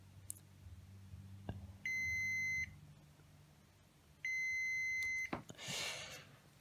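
A multimeter on continuity mode gives two sustained electronic beeps, each lasting under a second, while a capacitor on a Nintendo Switch circuit board is probed. Small clicks and faint handling noise fill the gaps between the beeps.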